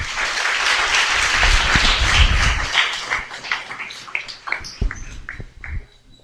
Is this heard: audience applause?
yes